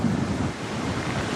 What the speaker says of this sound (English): The winds are picking up,